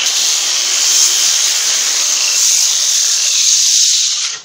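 Coarse P24 sheet sandpaper is rubbed by hand across an end-grain wooden cutting board, giving a steady, close, bright hiss that holds evenly for several seconds before cutting off.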